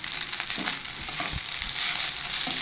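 Paneer fried rice being stirred and mixed in a hot pan gives a steady close sizzle with soft scraping and shuffling pushes, and no voices.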